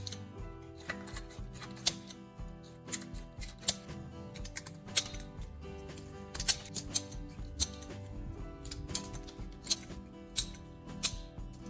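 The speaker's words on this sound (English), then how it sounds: "Take a pair of scissors and cut the plastic into small pieces." Scissors snipping old CD plastic into small pieces, a run of sharp, light clicking cuts at an uneven pace, close and fairly quiet over a faint background hum.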